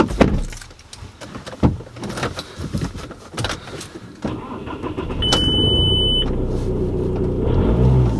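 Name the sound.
used car engine starting up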